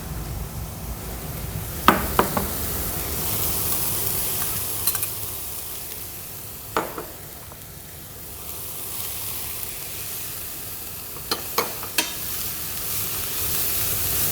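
Zucchini and carrot sauté in a pan, giving a continuous soft sizzle with occasional sharp utensil clicks and scrapes as they are stirred.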